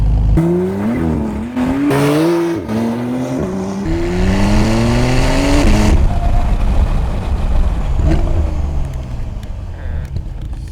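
A 991.2 Porsche 911 GTS, freshly rebuilt after a wreck, accelerates hard on a test drive, its engine rising in pitch through several gear shifts, loud and close, then settling into a steady roar.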